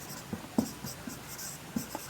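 A pen scratches across paper in short, close strokes with small taps, steady and fairly quiet, during a class 9 maths lesson working out a semicircle's perimeter; no one speaks.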